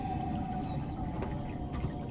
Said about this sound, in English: I heard a whale.